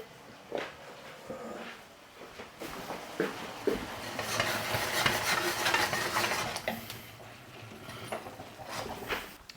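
Grated cheese stirred together in a bowl, with a steady run of scraping, clinking utensil-on-bowl sounds that swell in the middle and ease off toward the end, close by and with no talking.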